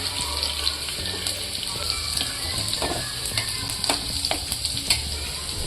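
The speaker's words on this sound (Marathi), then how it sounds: "हा लसूण चांगला भाजून द्यायचा।" Garlic roasting in a pan for a methi and bajra flour breakfast dish, a continuous close sizzle and crackle with light stirring scrapes throughout.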